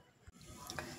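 Kothimbir vadi, coriander fritters, frying in hot oil, giving a steady close sizzle that runs through the moment with a brief dip near the start.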